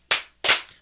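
Two sharp hand claps ring out about a third of a second apart, close and loud in an otherwise quiet moment, an audience greeting for Kara Banks.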